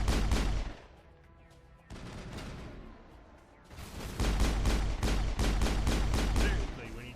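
Rapid bursts of gunfire in the Mass Effect 1 video game, loud volleys of repeated shots with a brief lull in the middle before heavy firing resumes. A voice speaks faintly beneath the shooting.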